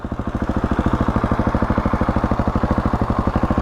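A motorcycle engine runs steadily while a learner rider circles at low speed, producing a loud, even, rapid pulsing putter that holds a constant rhythm for several seconds.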